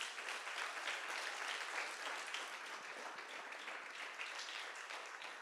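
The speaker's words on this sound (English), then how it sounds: "a big round of applause for you" Applause at a city council meeting for a cheer team coach, a dense, even wash of clapping from the gathered audience that holds steady throughout without any voices.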